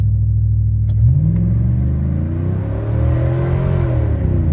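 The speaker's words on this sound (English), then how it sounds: "We're gonna do a 1500 RPM launch" An LS-swapped 2005 Chevrolet Silverado with a Truck Norris cam launches from 1500 RPM, its engine note rising steadily as the tires spin, a loud close rumble throughout.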